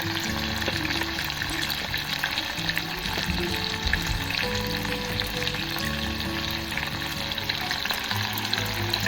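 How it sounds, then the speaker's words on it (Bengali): Continuous loud sizzling of chicken pakoras deep-frying in oil, a dense bubbling hiss with faint background hum, steady throughout. "এখানে আরো এক রাউন্ড ভাজা হচ্ছে"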